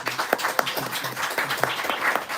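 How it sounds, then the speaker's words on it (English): An audience at a poetry night claps together in a dense, continuous patter of applause, fairly close and steady throughout. "please give another round of applause for our poets."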